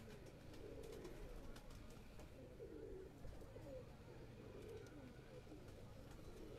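Domestic pigeons of a Bataira-type breed cooing steadily on a Karachi rooftop, soft repeated low coos rising and falling over constant background hum and faint traffic.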